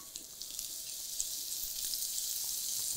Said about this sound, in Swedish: Så är det dags att steka svampen.